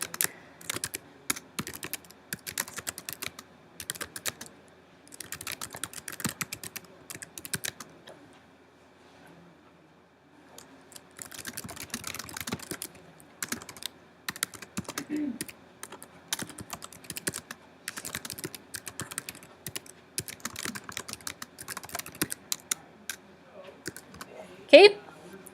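Computer keyboard typing in bursts of quick, close clicks with brief pauses between runs, keys pressed steadily while writing paragraphs; no talking.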